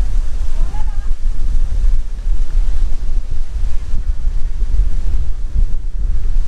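Strong wind buffets the microphone at Bang Saen beach, a continuous loud low roar with gusts and a faint wash of surf, and a brief voice is heard near the start.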